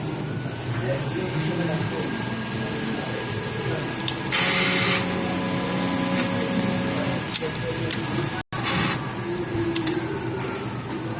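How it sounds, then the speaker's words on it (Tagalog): A sublimation printer runs a head cleaning cycle, a steady mechanical hum with whirring motors and tonal whines, broken by two brief bursts of louder spraying or pumping noise and a short sudden drop. "Ngayon naman po ay head clean po natin"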